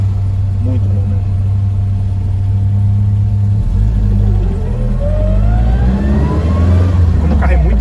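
A BMW 320i E21 with a MoTeC M4-tuned engine pulls away and accelerates, its loud engine drone rising in pitch through the revs with a steady low rumble inside the cabin.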